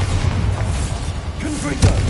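Bombarda spell blasts in the Hogwarts Legacy video game, a deep rumbling boom underfoot with a sharper punchy burst near the end, loud and close, with no talk.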